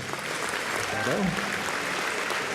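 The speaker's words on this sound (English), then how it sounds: "may we have a round of applause for the Case University Circle Symphony Orchestra Rock Ensemble" Luncheon guests at a homecoming event applaud a student rock ensemble, a dense, even patter of many hands at moderate distance, with a brief voice rising over it partway through.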